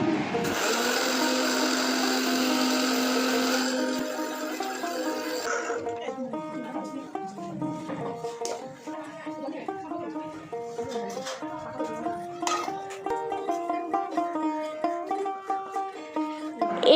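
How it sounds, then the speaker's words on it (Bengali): Electric mixer grinder whirring as it grinds lightly fried dry red chillies, cumin and coriander seeds into a spice powder for a meat dish; a loud steady motor roar at first, then rattling, clattering grinding that continues to the end. "এখন এই যে শুকনো লঙ্কাটা একটু খালি কলায় ভেজে নিয়েছি, আর তার সাথে জিরে আর ধনেটাকেও, সেটাই এখন মিক্সিতে ঘোরাবো।"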